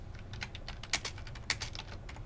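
Typing on a computer keyboard while entering an axis title in an Excel 2013 chart, a steady run of close, quiet key clicks with two sharper, louder keystrokes standing out.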